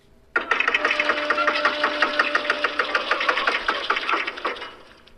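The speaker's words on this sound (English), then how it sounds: "Then the steam engine starts turning gears on the ground." A steam engine turning gears on the ground gives off a fast, even mechanical clatter, loud and close. It starts abruptly, runs steadily with regular ticking beats, then fades out near the end.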